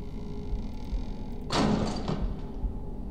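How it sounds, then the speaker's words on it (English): A door swings shut in the horror video game Hektor, a single loud thud with a brief rattling tail rising out of a steady low ambient drone, fairly close. "I'm closing this door"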